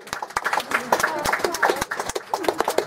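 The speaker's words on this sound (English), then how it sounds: "Can everyone give him a round of applause?" A small audience at a steep railway attraction breaks into quick, close applause of sharp, uneven claps, while a voice keeps talking over the clapping.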